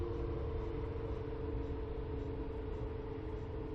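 Thrust reversers on an Airbus A310 landing in the X-Plane 11 flight simulator make a loud, steady, low roar that holds without letup for several seconds, with no voices.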